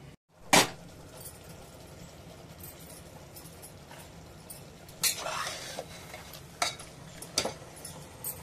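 Mutton masala being stirred and sautéed in a pressure cooker, with scattered scraping clinks of a spoon against the pot, a sharp knock early on and a busier stretch of stirring later, over a quiet background.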